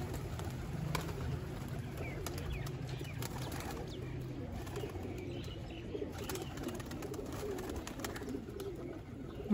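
Pigeons coo in a loft, low rolling calls layered together with scattered chirps and occasional wing flaps, steady and close.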